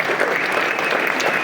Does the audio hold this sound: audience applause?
yes